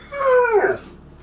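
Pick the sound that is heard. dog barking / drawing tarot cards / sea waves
dog barking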